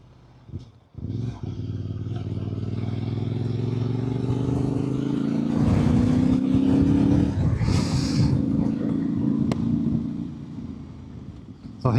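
A Voge DS 800 X Rally motorcycle is ridden in 4th gear with the throttle rolled on and off. The engine drone climbs steadily under wind rush, then eases off, with some faint talk over it.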